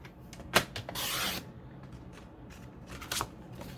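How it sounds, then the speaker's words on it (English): Cardstock for a handmade card is cut on a paper trimmer, giving a few soft close scrapes and a longer sliding cut followed by light paper handling rustles, quiet and without speech. "So I'm going to cut this at 5"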